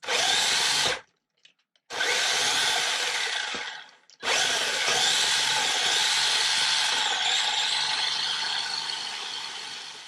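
A 1:10 scale 4WD electric all-terrain RC car on a LiPo battery, its motor giving a loud high-pitched whine that cuts out twice for braking, then resumes while reversing and running on.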